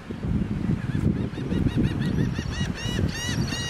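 Repeated honking gull-like calls heard near a St. Petersburg, Florida beach: a steady series of nasal cries over loud wind and surf rumble, with no talking.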